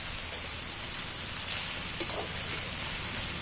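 Two small tomatoes sizzle in a pan over a low gas flame, a soft steady frying hiss like light rain, with faint crackles near the middle.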